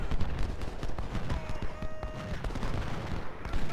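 Gunfire in Ultimate General: Civil War, with scattered crackling musket and sniper rifle shots over a dense, continuous battle din. A faint sustained tone sits in the background, and no one speaks.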